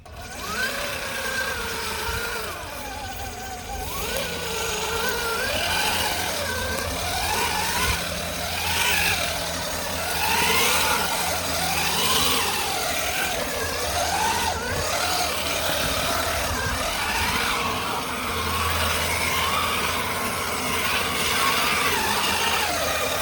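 Brushed 1/5 scale RC mega crawler on 36 volts driving in low gear, a steady electric motor whine with wavering pitch and gear hum, close and continuous.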